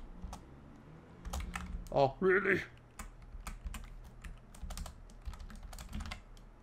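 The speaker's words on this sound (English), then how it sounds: "I'm typing too fast now." Computer keyboard typing in quick, irregular clicks throughout, fairly close, with a brief spoken exclamation partway through.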